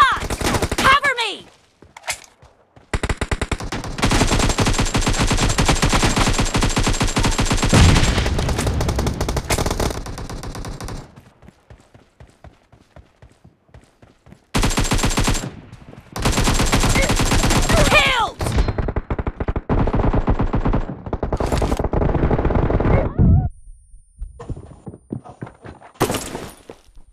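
Long stretches of loud, rapid automatic fire during a PUBG team deathmatch, broken by short pauses and quieter gaps, with sustained bursts returning several times.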